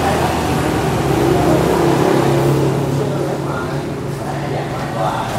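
Idling engine of a matte black Vietnamese-market Honda Super Cub C125 motorcycle, a steady low rumble with a constant hum that runs through the whole stretch at close range.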